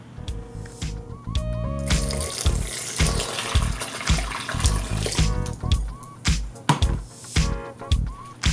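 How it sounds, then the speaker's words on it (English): Hot water pours and splashes into a bowl of cornmeal mix in uneven bursts, with music playing in the background. "Now pour in some hot water."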